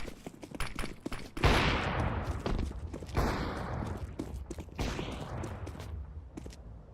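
Rapid bursts of video-game gunfire from a decoy grenade mimicking shots, a steady crackling fusillade of repeated pops with heavier thuds, fairly close and continuous throughout.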